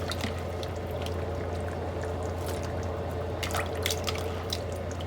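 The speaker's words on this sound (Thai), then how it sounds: "ใส่มะเขือลงไป" Thai eggplants drop into a pot of spicy beef curry with a run of soft wet plops and drips over a steady low bubbling hum, fairly close and alone.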